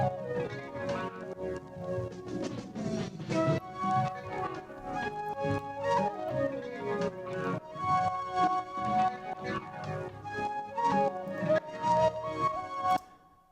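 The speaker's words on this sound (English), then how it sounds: "So this is the sample start automation which is happening over time" A repeated sample clip plays back with its start point shifting under automation, so the same dense tonal fragment restarts in a rhythmic pattern. The music is fairly loud and steady and ends abruptly, with no voices.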